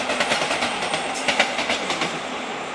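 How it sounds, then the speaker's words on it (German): An Erfurter Bahn train moves through Leipzig central station, its wheels giving a quick, rhythmic clickety-clack over rail joints with a hissing rumble, heard fairly close and steady, with no one speaking. "Die Erfurter Bahn. Ja, wohin die jetzt fährt, keine Ahnung."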